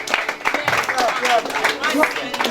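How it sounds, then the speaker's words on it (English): An audience at a school robotics competition finale claps in a burst of applause, steady and fairly loud, with voices and chatter mixed in underneath. "A round of applause."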